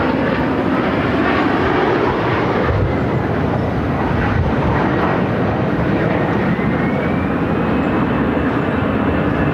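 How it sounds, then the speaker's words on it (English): American Airlines flight 540 takes off from runway 25 right at Phoenix Sky Harbor, a steady, loud jet engine roar that holds without a break throughout, with no voices over it. "American 540, runway 25 right, let's take off"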